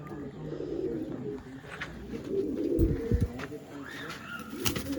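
Pigeons at a pigeon sale and show coo in low, throaty rolling calls close by, with people talking over them and a few sharper sounds near the end.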